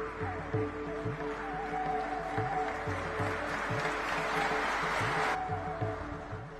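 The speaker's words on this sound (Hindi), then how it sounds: "भरी सभा तालियों से उनका स्वागत कर रही थी।" A packed hall at a ceremony honouring the Prime Minister and President breaks into applause. The clapping is sustained and fairly loud, with rhythmic background tones running underneath.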